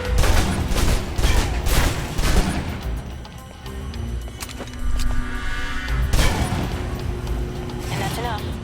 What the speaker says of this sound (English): Now for your submachine guns. If you're trapped in close quarters with multiple opponents, the SMGs can help clear the room quickly.